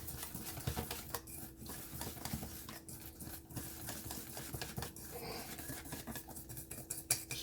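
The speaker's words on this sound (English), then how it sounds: "we're gonna go ahead and we're gonna whisk this up" A whisk beaten briskly through about two tablespoons of milk in a bowl for Louisiana crunch cake, a quiet, continuous metallic clatter and swish against the sides, close by with no talk.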